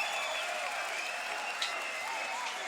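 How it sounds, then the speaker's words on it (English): Fairly quiet, steady applause from a crowd at a beatbox battle, continuous across the moment with faint tonal sounds threading through it. "Make some noise for Stitch"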